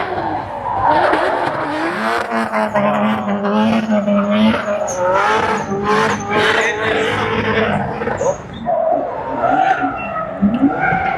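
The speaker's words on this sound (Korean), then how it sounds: "은승재 1번 코너 진입" Race cars at the 2025 Boryeong international motor festival scream through a corner with loud, close engines. Pitches rise and fall with gear changes and tyres squeal, while an excited commentator talks over the noise.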